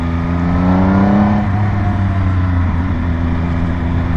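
A 2020 Triumph Speed Triple RS motorcycle pulls hard in second gear, a loud, close engine drone with rising pitch and steady throttle, heavy wind rush underneath, no voices.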